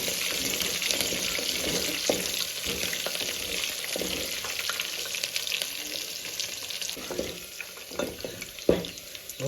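Tempering seasoning and green chillies sizzle in a hot pan for barnyard millet upma, a continuous close frying hiss with scattered crackles and stirring knocks, including a sharper clack near the end, and no one speaking.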